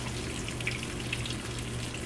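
Steady hiss and patter of cooked ditalini pasta draining its water after being lifted from the pot with a spider, close and even for a couple of seconds with no talking.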